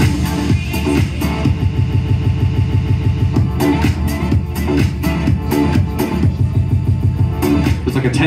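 A triplet-feel roll effect from the performance pads on a Denon DJ Prime 4, loud dance music chopped into rapid rolling repeats that tighten and release, played alone without talk.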